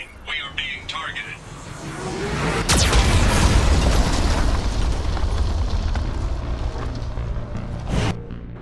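A Geth cannon in the Mass Effect video game fires with a sharp blast and a heavy booming explosion that rumbles on for several seconds, followed by another sharp hit, with voice-like sounds faintly mixed in.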